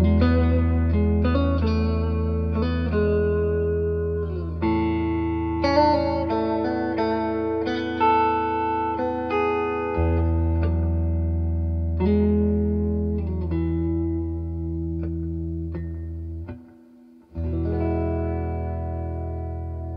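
A clean electric guitar played through a Fender Deluxe Reverb and Victory Sheriff 25 amps, sustained chords and single notes with warm amp tone and reverb, ringing out alone without any voice.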